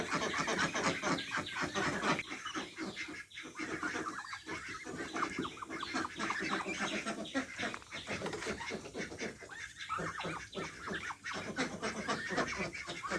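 Farm poultry, Chinese ducks alongside a few local ducks, clucking and calling in a busy, continuous cluster at moderate distance, faint overall with layered overlapping calls.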